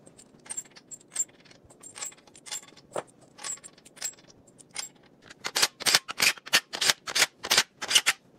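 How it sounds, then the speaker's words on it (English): Steel liner hold-down bolts for a DT-466E diesel engine rebuild are dropped and set in place, giving a run of sharp metallic clinks and jangles that come sparse at first, then quicker and louder near the end. "let me throw those bolts in here"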